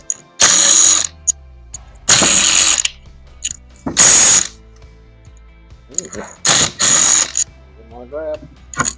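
A ratchet clicks rapidly while removing the clutch cover bolts on a Yamaha Warrior 350 ATV, coming in several loud, close bursts of a second or so separated by brief pauses.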